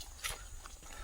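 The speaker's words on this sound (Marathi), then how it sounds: "आणि आमचा चालण्याचा आवाज येतोय." A few uneven footsteps crunch on the ground in a dense forest in Periyar Tiger Reserve, Kerala, close by, with a soft background hiss of outdoor ambience.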